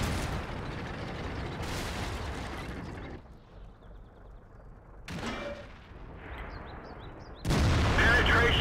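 Tank cannon fire in World of Tanks, loud heavy blasts with a long rumbling tail, quieter engine hum in between and another booming shot at the end, a voice talking over parts of it.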